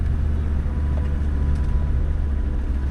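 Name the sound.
Land Rover Discovery 2 TD5 engine crawling off-road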